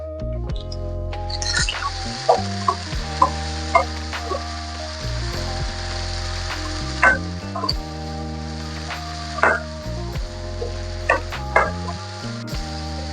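Onions and tomatoes frying in a pan for egg curry, a steady background sizzle broken by repeated clinks and scrapes of a spoon stirring, over a low hum and with no talk.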